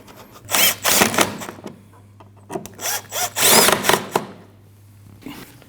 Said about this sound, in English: You want to reinstall your 2 screws from your inner fender liner.